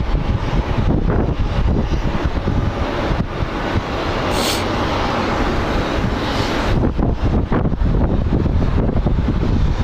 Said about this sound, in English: Now it's getting windy.